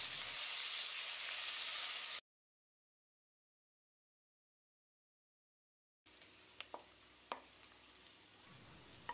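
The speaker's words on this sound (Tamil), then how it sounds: "வெங்காயத்தை பொன்னிறமாக வதக்கிடலாம்" Sliced onions sizzle and fry golden in a pan, a soft steady hiss with occasional stirring scrapes and pops; a silent gap breaks the sound midway.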